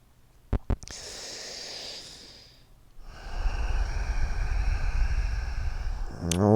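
Deep breathing during a yoga forward fold in a vinyasa class: a few sharp clicks, then a slow exhale, a short pause, and a long, steady, close breath that grows louder toward the end.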